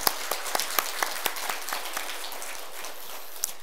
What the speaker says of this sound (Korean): 우리 하나님 앞에 크게 영광의 박수를 돌리겠습니다.